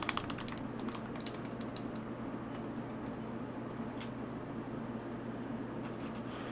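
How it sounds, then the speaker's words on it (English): Rapid button clicking on a handheld during a full-odds shiny Beldum hunt in Pokemon Ruby, a dense run of quick small clicks over a steady low hum, with no one talking. "I'm sure y'all can hear how fast I'm clicking over here."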